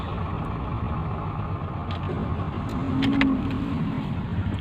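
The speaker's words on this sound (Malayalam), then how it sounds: "സോ വണ്ടി ഇവിടെ സ്റ്റാർട്ടായി കഴിഞ്ഞു" A semi-automatic AMT car's engine runs steadily after starting, with a close, continuous hum and a slight rise in the middle.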